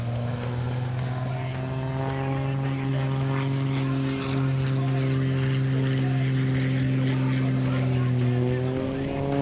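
An aerobatic propeller airplane powers out of a low-speed pinwheel at an air show, its engine holding a strong, steady droning hum with a buzzing propeller tone that rises slightly toward the end, loud and continuous throughout.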